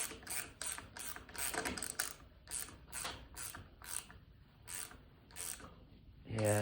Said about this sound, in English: You can go ahead and tighten that valve stem down.